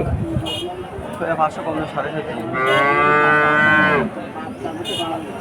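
Cattle at a busy rural livestock market in Jethua moo, one long loud drawn-out call rising over the steady crowd chatter and someone talking nearby.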